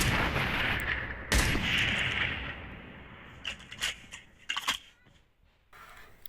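Sniper rifle fire in the Call of Duty Mobile game on the Blackout map: a few sharp, separated shots ring out over a steady wash of in-game background noise, with no talking.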